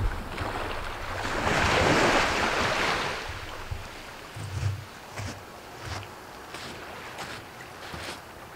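Waves washing onto the shore of Mill Bay in Kodiak on a frosty morning, a steady nearby surf with a heavy gust of wind noise early on and softer surges after.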